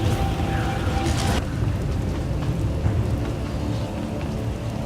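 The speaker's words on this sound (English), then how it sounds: "I fear the storm is getting worse." Storm on a planet in Star Wars: The Old Republic, with a dense steady wash of rain and low rumbling thunder underneath, a sharp crack early on, continuous and moderately loud.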